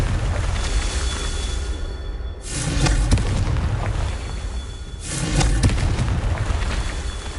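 Confringo blasting spell in Hogwarts Legacy, two loud, broad rumbling explosions a couple of seconds apart over a constant dense game-noise bed.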